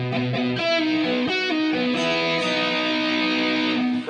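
A distorted electric guitar plays a riff built on palm-muted chugs on the low sixth string with quick pull-off notes, a busy, chopped rhythm that stays loud and alone throughout.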